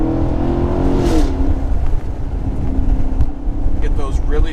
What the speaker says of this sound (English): you get those really sweet shifts, you get the crackles, you get the pops.